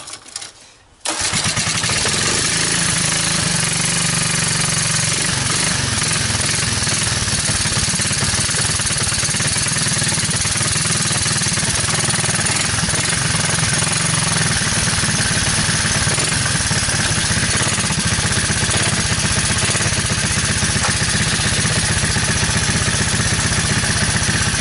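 A waterlogged 1985 Honda ATC 200S three-wheeler engine cranks briefly, then catches and keeps running at a steady, loud, close idle with a constant mechanical clatter.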